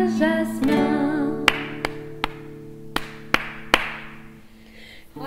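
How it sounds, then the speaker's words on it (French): Hands clapping along to a French children's action song, about seven sharp single claps at an uneven, steady-ish pace over a sung melody and backing music. "Tape, tape avec tes mains."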